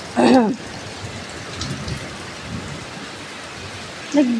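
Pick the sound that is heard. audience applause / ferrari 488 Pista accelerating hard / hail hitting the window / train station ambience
hail hitting the window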